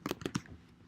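A few quick keystrokes on a computer keyboard, soft close clicks bunched in a short burst and then fading.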